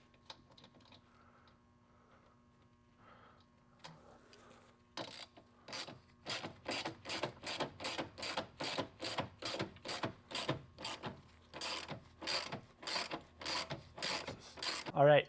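A tool runs bolts into the carbon splitter on a Nissan 370Z track car, opening with faint workshop hum, then a steady rhythmic train of close ratcheting clicks.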